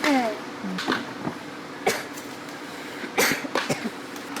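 Several short, sharp coughs from an unwell person with a sensitive throat, spaced irregularly across the moment in a quiet indoor room, fairly close and alone with no talk over them.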